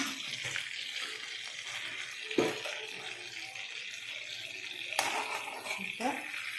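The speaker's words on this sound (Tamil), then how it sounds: "இந்த பன்னீரோட வீட்டில் காய்ச்சின நெய் கொஞ்சோன்னு ஒரு ஸ்பூன் போடுறேன்" Paneer frying in a spoonful of homemade ghee gives a steady, close sizzle throughout, with a few brief clinks and stirring knocks from the pan.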